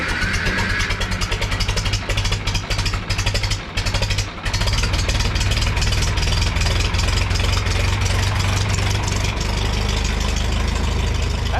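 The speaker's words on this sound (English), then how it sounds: "But let's see if the old girl start up right now." An old gas John Deere tractor engine cranks and catches in cold weather, then settles into a loud, close, rapid chugging idle that runs steadily on its own.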